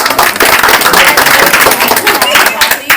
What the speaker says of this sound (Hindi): तो एक बार इनके लिए ताली बजा दो